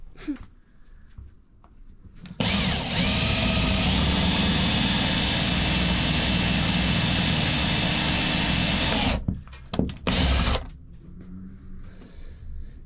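A power drill drives a wood screw into the centre of wooden plugs aboard a boat, a loud sustained whine running several seconds, then short bursts before quieter room sound.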